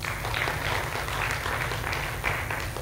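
Congregation clapping during a church sermon, a steady wash of many hands over a low background hum, fairly even throughout.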